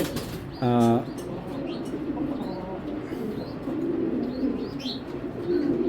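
Pigeons, an eight-thousand-taka pair of old-blood birds offered for sale, coo and chirp softly close by, with a sharper harmonic call early on and brief wing flutter against steady background noise.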